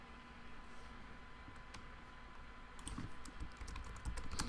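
Quiet, steady tapping on a computer keyboard during an online MMA card-game draft, scattered soft keystrokes over a hissy background that grow a bit busier toward the end, with no talking.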